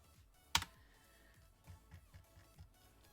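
Keystrokes on a computer keyboard while deckbuilding a Magic: The Gathering EDH deck, a single loud sharp click followed by a few softer scattered taps, close and alone.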